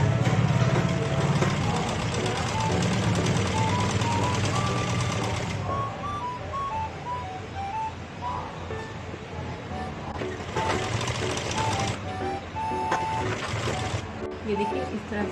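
A sewing machine stitches a stand collar on a blouse, a continuous mechanical hum running under someone talking steadily throughout, with the motor louder in the opening seconds.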